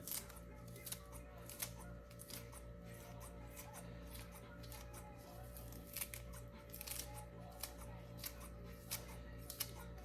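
Scissors snip leafy greens in a kitchen, a steady series of quiet, crisp cuts over a low background hum.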